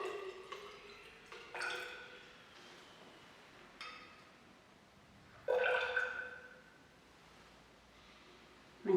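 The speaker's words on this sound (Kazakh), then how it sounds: "Ең бірінші біз 50 мл суды өлшегіш цилиндрге құйып өлшеп аламыз." Water is poured into a glass measuring cylinder during a school chemistry lab, heard as a few short splashing, trickling pours with a louder fill near the end, fairly quiet and close.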